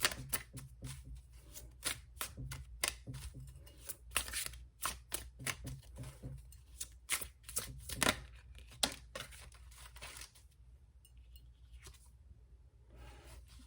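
Tarot cards shuffled by hand in a dense run of quick, crisp riffles and slaps, close and fairly quiet, tapering off near the end.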